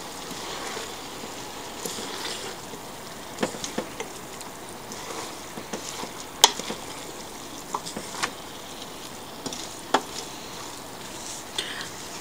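Stir-fried rice with chicken and vegetables being stirred in a pan: a steady soft sizzle with scattered scraping and clinking of the utensil, fairly close and moderately loud, no talking.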